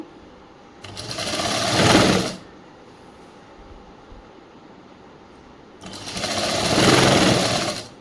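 A sewing machine stitches the sleeve of a chudi top in two loud bursts of rapid mechanical whirring, each lasting about one and a half seconds, with a quiet pause between them.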